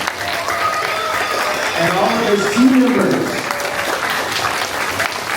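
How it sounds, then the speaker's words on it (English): Audience clapping for the host Chris at an Ironman team gathering, a steady wash of applause from a crowd mixed with talk and cheering voices throughout. "How about a round of applause for Chris?"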